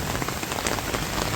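Steady rain patters on surfaces around a village yard where chickens are kept, a dense even hiss of drops with no voices.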